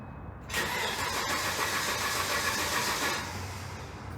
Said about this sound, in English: Okie dokie, I'm gonna try and start her.